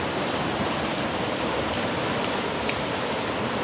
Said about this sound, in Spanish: Es que está bien fuerte el río.